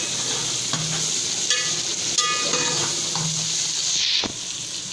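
Tomatoes and salt are stirred in a sizzling frying pan for egg biryani, with a continuous hiss of frying and scraping spoon strokes against the pan, close and loud with no talk.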